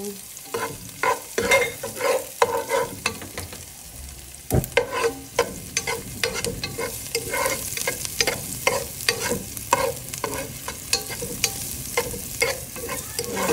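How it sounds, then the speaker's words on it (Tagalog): Garlic and ginger sautéing in a pan, a continuous sizzling fry broken by repeated scraping and clattering strokes as the aromatics are stirred, close and fairly quiet with no talk. "nagigisa po tayo ng bawang at saka luya"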